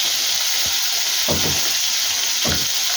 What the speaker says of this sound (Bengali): এভাবে মাছগুলো ভেজে নিয়ে ফিরছি।